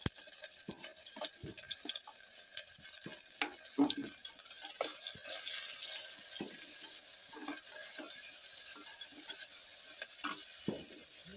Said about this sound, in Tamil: இப்போ வெங்காயம் கொஞ்சம் வதங்கிடுச்சு.